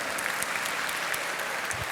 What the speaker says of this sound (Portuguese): Uma salva de palmas, parabéns.